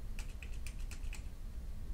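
A few computer keyboard keys tapped in quick succession, crisp and close, while toggling sticky keys during a Kerbal Space Program session.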